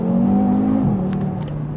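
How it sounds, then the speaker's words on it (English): A 2021 Audi TT RS driven on a cold road, its engine giving a brief, steady droning note that drops slightly in pitch partway through, heard from inside or near the car without talk. "And that sound that you get from this car is just next level."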